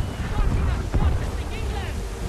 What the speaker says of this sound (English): Criminy, rogue wind! Heavy gust, captain, hard counter!